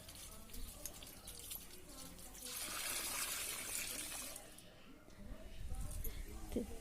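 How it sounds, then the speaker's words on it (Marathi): Fresh dill leaves are rinsed under running water: a steady stream splashes and trickles over the greens, swelling briefly louder midway, while someone talks over it. "छान असं पाण्याने दोन तीन वेळा ही भाजी धुवून घ्यायची आहे"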